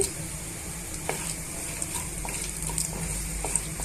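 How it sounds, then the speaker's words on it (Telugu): Tempering spices, including chana dal and broken dried red chillies, sizzle steadily in oil in a pan, a soft constant crackle with small pops and stirring sounds, close and fairly quiet, no talking. "పోపు దినుసులన్నీ కూడా కలర్ చేంజ్ అయ్యేంత వరకు వేయించుకోండి"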